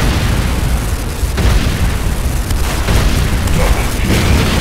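A refinery blows up in the Command & Conquer Renegade game: loud, sustained booming explosions and crumbling debris fill the whole stretch, with a few sharper bursts standing out.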